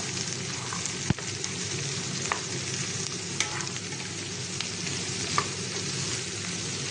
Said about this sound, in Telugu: కట్ చేసుకున్న గుమ్మడికాయ ముక్కలు వేసుకోవాలి. వేసి బాగా కలుపుకోవాలి.